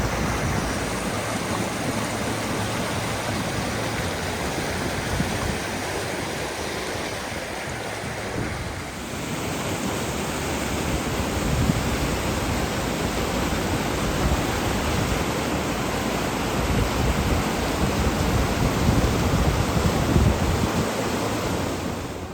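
Loud, continuous roar of a rushing creek and waterfall swollen after a huge rainstorm at an adventure park, a dense broadband wash of water that carries on without a break and swells a little near the end.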